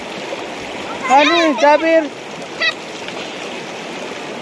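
The Nibel Khola river rushes along the riverside in a steady, even wash of flowing water, with a voice briefly speaking over it midway.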